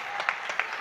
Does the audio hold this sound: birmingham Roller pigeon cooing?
no